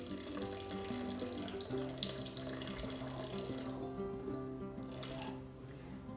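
Water runs steadily from a tap or pours into a bowl sitting on a kitchen scale during sourdough prep, a continuous close trickling stream with a faint hum behind it.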